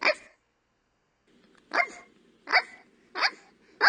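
A voice imitates a dog, giving one yap followed by a pause and then four short, evenly spaced barks, close and fairly quiet.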